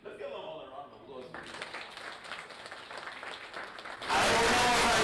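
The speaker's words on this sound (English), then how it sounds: "Let's give them all a round of applause." Audience clapping for local artists at an event, a moderate round of applause following some brief talk, then abruptly overtaken by a loud, dense burst of noise in the final second.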